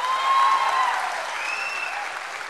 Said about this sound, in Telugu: నచ్చితే ఒకసారి గట్టిగా చప్పట్లు కొట్టండి